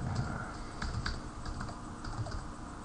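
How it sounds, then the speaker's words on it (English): Fingers type on a computer keyboard, a quick close run of soft key clicks with no talk. "Just type something in here."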